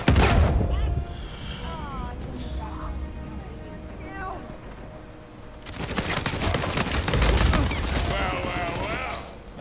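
A grenade goes off amid an Uncharted 4 firefight: scattered gunshots and mechanical clatter are followed by a loud, sustained burst of explosive noise, while a character's voice speaks over the action.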